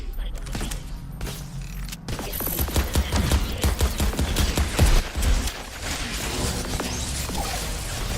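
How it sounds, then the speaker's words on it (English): Arc rifle fire in the video game Crackdown 3: a rapid, crackling burst of loud electric shots that swells midway, then settles into a busy, noisy firefight. "That arc rifle packs a punch."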